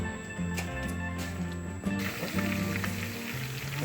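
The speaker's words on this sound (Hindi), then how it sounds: "इसको मैं लगाऊंगी तड़का, जिसमें मैंने ये पुदीना, धनिया और हरी मिर्च डाली है, और ये मैंने इसमें ऑयल डाला है" Mint, coriander and green chili sizzling in hot oil for a tadka, a soft continuous frying hiss under a low steady hum, close and moderately loud.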